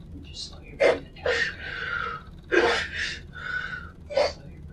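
A distressed girl takes heavy, ragged gasping breaths, sharp inhalations followed by shaky drawn-out exhales in an uneven rhythm, close and loud in a quiet room.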